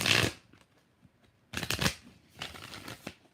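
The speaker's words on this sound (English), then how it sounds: "Three more shuffles." Tarot cards shuffled by hand: a crisp riffling burst at the start, then two more shuffling flurries after a short pause, close and fairly quiet, with no talking.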